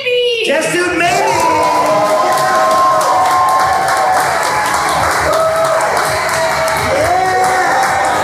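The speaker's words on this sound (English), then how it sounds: "big round of applause for Test Tube Maybe!" A live audience at a short-form improv comedy show bursts into loud applause, cheering and whooping, with crowd shouts rising over steady clapping throughout.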